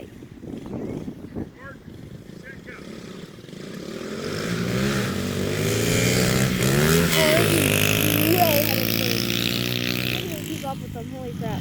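A dirt bike engine revs up and holds a loud, buzzing drone with rising and falling pitch, starting after a few seconds of quieter sound and close by, with talk mixed in.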